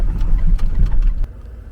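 A rig nicknamed Brute, driving a hilly field road toward an oil well after a full day of rain, rumbles with a heavy, close engine drone that churns for about a second, then drops away quieter.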